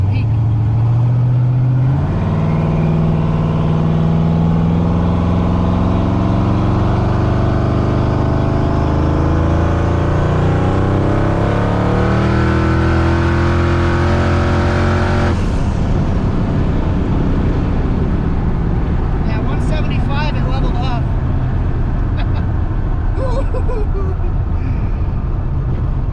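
Turbocharged car on a 13 psi boost pull, engine pitch climbing loudly and steadily for about fifteen seconds before an abrupt lift-off, then a lower drone with people talking.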